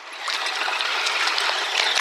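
Fish Creek water trickling and flowing over rocks, a close, steady broadband babble with no voices.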